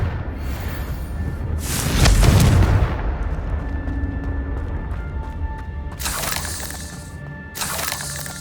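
A Confringo spell blasts in Hogwarts Legacy, a loud booming explosion with a crackling burst that swells and fades, followed by further sharp bursts near the end.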